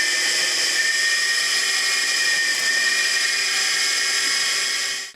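A homemade drill press built from car shock absorbers and a steering box runs with a loud, steady high-pitched whine, spinning continuously before cutting off abruptly at the end.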